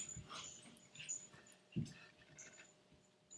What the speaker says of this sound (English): Those are my doggies. They're getting ready to go to the dog park.